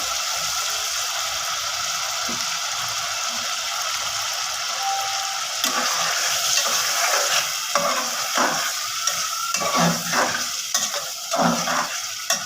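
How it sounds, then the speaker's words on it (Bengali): Shing fish is stir-fried with spices, tomato and oil in a pan, a loud, close sizzle that grows busier as a utensil scrapes and stirs in repeated strokes, with no talking. "কষানো হয়ে গেছে এর মধ্যে আমি মাছটা দিয়ে কষে দেব আবার"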